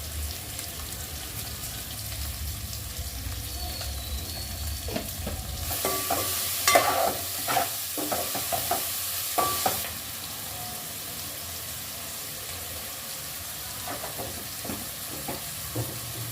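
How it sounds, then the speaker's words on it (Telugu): Onions salted in a pan sizzle softly and steadily while a spoon stirs them for a Telugu dum biryani, with clusters of scraping and clattering strokes in the middle and again near the end, no voices. "ఆనియన్స్ మంచిగా వేగేదాకా తిప్పుకోవాలన్నమాట"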